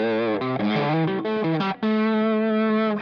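An electric guitar with a P90 pickup, played through Visual Sound distortion effects, rings out a loud, singing lead of stepped notes before settling into one long sustained tone after a short break.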